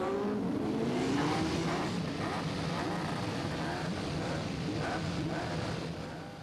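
Open-class racing motorcycles on a warm-up lap at Knockhill in 1988, a fairly distant, continuous engine roar with rising and falling revs as bikes pass.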